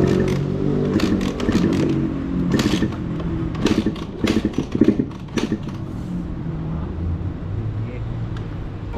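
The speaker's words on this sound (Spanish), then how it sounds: "intentamos encender la moto. Bueno, la moto encendió, pero se apagó y no quería encender más." A Yamaha motorcycle engine starts, sputters unevenly for a few seconds and then dies, heard close up under people talking.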